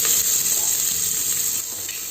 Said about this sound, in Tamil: பூண்டு வெங்காயம் நல்லா வதக்கிற அளவுக்கு வதக்கிக்கோங்க.